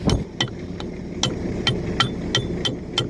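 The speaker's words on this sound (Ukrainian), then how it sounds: "молоточок в помощь, бо ключа шукати довго і неудобно" A small hammer knocks a stuck nut on a K-701 tractor fitted with a MAN F2000 engine, striking nine or ten sharp metallic blows in an irregular rhythm, close and loud over a low background rumble.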